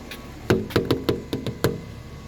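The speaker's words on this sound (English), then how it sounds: "we'll knock on the door" Knuckles rap on a house door outside: six or seven loud, close knocks in an uneven rhythm over about a second and a half, with a faint hum behind them and no speech.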